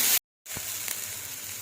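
Onion and garlic frying in a pan for paneer curry, a steady close sizzle after a brief cut, with faint stirring ticks.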